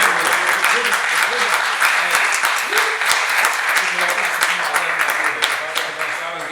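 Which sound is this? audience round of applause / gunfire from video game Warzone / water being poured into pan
audience round of applause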